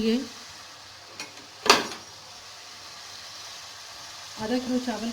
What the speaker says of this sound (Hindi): दो बड़े साइज़ की प्याज तेज़ आंच पे इसको फ्राई करेंगे